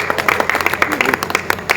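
An audience at a Hindi poetry gathering in Harda breaks into brisk, close applause, with dense clapping under some mixed voices.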